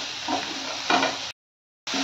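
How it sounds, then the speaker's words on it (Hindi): Soya chunks stir-fried with spices in a pan give a close, steady sizzle with scraping stirring strokes, cut by a short silent gap before the frying sound returns. "अब हम इसमें सोया डाल के 2 मिनट तक इसे अच्छी तरह भून लेते हैं"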